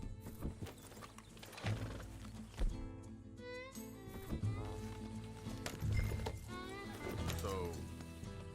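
Horse hooves clip-clopping in the Red Dead Redemption 2 video game, a busy run of close hoof beats mixed with game ambience and mechanical rattles, no speech.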